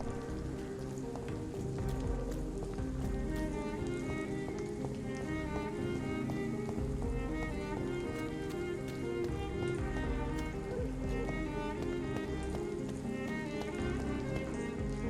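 Rain falling in the video game Vampyr, a dense continuous patter that stays steady and fairly faint, with a dark game ambience and music underneath.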